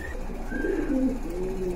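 Pigeons coo at a bustling pigeon market, a low warbling call rising and falling near by over a steady murmur of crowd noise.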